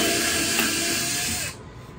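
Power drill boring a pilot hole into wood for a custom built-in cabinet, a steady close whine that holds for about a second and a half and then cuts off, leaving quiet room tone.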